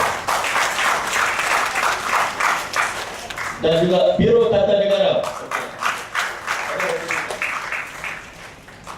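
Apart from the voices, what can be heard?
thunderous applause at a cultural lecture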